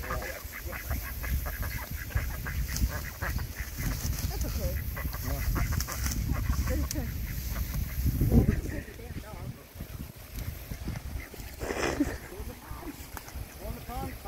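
Loud honking duck calls ring out over a noisy outdoor scene near a pond, with people talking throughout and a sharp thump midway.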